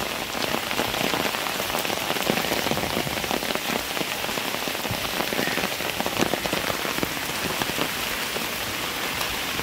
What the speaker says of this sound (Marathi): खूप पाऊस आहे आमच्याकडे.